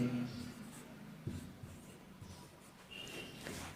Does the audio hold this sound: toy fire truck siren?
no